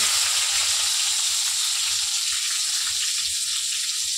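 Raw onion hitting hot oil with whole garam masala and two bay leaves, giving a loud, dense, continuous frying hiss that holds steady throughout, close and with no voices.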